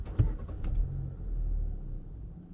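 A 2018 Hyundai Elite i20 rumbles along with a low, steady engine and road drone, close and continuous, with a couple of brief faint chirps early on.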